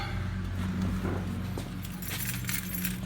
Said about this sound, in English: And there goes the keys to the Chevelle.